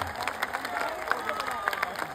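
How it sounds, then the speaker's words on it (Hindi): A crowd at a political rally on ending alcohol prohibition claps in scattered, uneven bursts beneath a steady murmur of chatter, with no clear unison rhythm. "जोर से बजाइए ताली"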